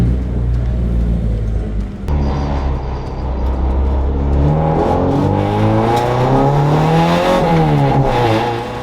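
A race car pulls out onto a greasy, green track, its engine rumbling low at first, then revving up through rising and falling gear sweeps, loud and close throughout.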